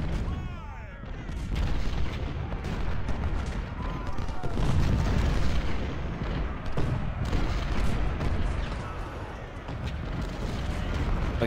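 Rolling Civil War cannon and artillery fire in the strategy game Ultimate General: Civil War, heavy booms and musket crackle layered continuously over a loud battle din.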